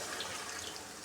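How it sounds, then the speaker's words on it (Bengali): Water poured into a pan of spiced curry made with a pangas fish head, a brief steady rush of liquid that runs evenly and fairly loud from start to end. "এখন আমি জল দিয়ে দিব"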